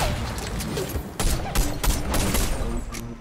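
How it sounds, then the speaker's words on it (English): Rapid bursts of gunfire from a sniper rifle battle in Fortnite, several sharp shots cracking one after another with a booming tail, loud and close over busy game noise. "Oh my gosh, that guy just got sniped."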